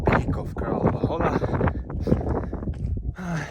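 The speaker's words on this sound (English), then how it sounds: "It's a bit cold, misty and windy" Gusty wind on a misty, cold mountain peak near Kralova Hola during a trail race, buffeting the microphone in rough bursts while a person talks throughout.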